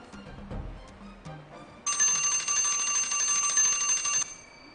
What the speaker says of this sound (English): You buzz on the bell, yes.